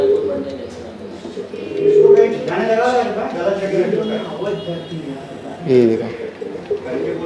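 Low, throaty pigeon coos repeat nearby in a pigeon loft in Santacruz East, Mumbai, while someone talks over them.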